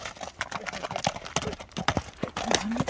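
Horse hooves clip-clop in a quick, uneven rhythm close by as a fast horse is ridden around, with brief snorts and faint voices in the background.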